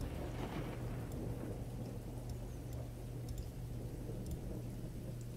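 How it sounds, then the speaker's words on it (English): Steady heavy rain pours outside during a thunderstorm, a dense continuous hiss with low rumbling thunder underneath and no voices. "You hear it starting to storm outside."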